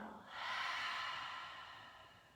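A single soft breath exhaled through the nose during a gentle flow yoga session, quiet and close, rising quickly then fading over a couple of seconds with no talk.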